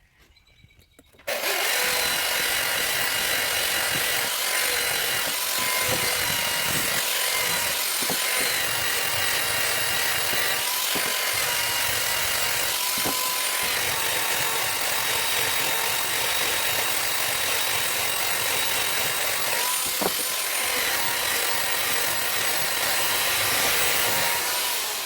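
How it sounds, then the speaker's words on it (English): Power sander working teak wood with 120 grit sandpaper, a steady loud whirring drone that starts after a brief quiet moment and runs continuously with slight changes in pitch and pressure. "If sand down with 120 grit, and then if I need to go higher, I will just do it by hand."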